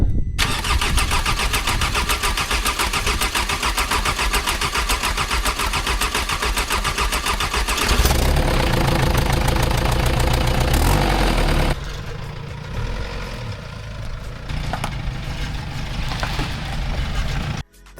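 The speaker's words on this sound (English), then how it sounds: "Putting the engine in the van was also a struggle, but so rewarding after we got it started" A newly installed van engine cranks and fires up loudly, settling into a steady, rough idle with a mechanical clatter, close by and with no talking.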